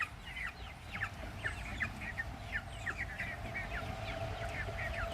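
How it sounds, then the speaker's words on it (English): A flock of about twenty-five backyard chickens with one rooster clucks and chirps in a steady stream of short calls, moderately near, over a low constant background hum. "So that's my 25 chicken with one rooster."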